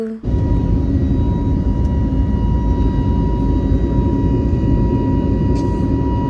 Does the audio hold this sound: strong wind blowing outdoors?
no